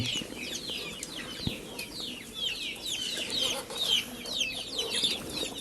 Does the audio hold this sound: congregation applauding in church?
no